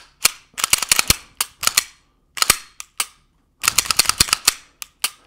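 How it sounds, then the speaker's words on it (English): 9mm rounds pressed one by one into a standard Glock 17 magazine, giving sharp, close metallic clicks in uneven bursts with short pauses between. "last thing I got to do is load a magazine here"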